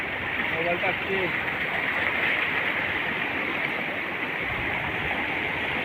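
Floodwater rushing over the road between Varlegaon and Solapur, a loud, steady broadband roar of flowing water that runs the whole time, with brief faint voices early on.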